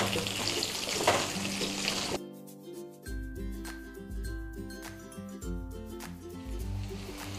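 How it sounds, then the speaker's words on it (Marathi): Cauliflower and potato pieces frying in oil give a dense, busy sizzle for about two seconds, which then stops abruptly and gives way to steady tonal background music. "आता या तेलामध्ये आपल्याला 1 वाटी फुलगोबी आणि 1 वाटी बटाटे टाकून घ्यायचे आणि याला थोडा वेळ परतून घ्यायचं आहे"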